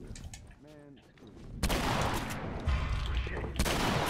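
Gunfire in the video game The Last of Us, a burst of loud shots and heavy impacts that follows a short stretch of game voice, with a final shot near the end.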